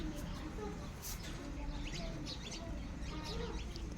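A sparrow gives faint, quick chirps in short clusters, low in level beneath people's voices and background hum.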